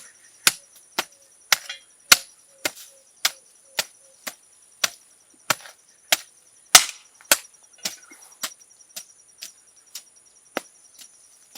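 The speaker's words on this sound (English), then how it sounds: "you are turning up the soil so that we're able to get the rich." Hand tool striking and turning soil for a plant nursery, with sharp dull thuds repeating in a steady rhythm about twice a second, close by against a quiet outdoor background with a faint high insect-like hum.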